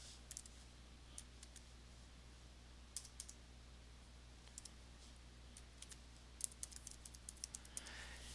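Light, rapid taps on a computer keyboard while an email address is typed in, scattered bursts of quiet keystrokes over a steady low hum with no talking.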